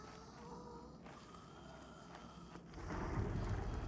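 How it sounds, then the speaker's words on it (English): Thunder rumbles and steady rain patters outside a cave in the online role-playing game Pantheon: Rise of the Fallen, the rain swelling louder near the end. No one speaks. "You can hear the thunder still outside"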